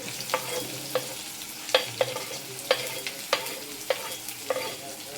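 Finely chopped onions frying in oil with mustard seeds, a gentle continuous sizzle punctuated by regular scraping clicks of a spoon stirring against the pan.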